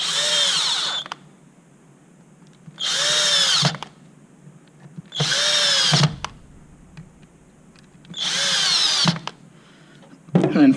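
A cordless power drill drives screws into a zip top box, four loud whirring bursts of a second or so each, separated by quiet gaps, with a fifth starting at the end.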